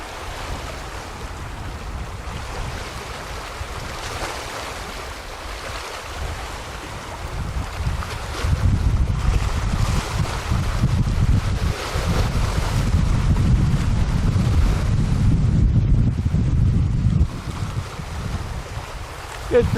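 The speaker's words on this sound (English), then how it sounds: "A little bit breezy today." Steady, gusty wind blows across a breezy beach near Lund, British Columbia, roaring into the microphone, with a low rumble and surf underneath that grow stronger partway through.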